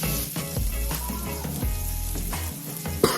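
A salmon fillet, just flipped, fries in a pan for a creamy salmon pasta, with steady close crackling sizzle and a few soft scraping and stirring sounds.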